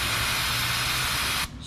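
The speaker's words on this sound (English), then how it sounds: "spray down the oil drain plug and your filter one more time" An aerosol can sprays down the oil drain plug and filter underneath a Kia Niro, one long continuous hiss lasting over a second before cutting off abruptly.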